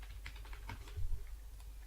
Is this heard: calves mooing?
no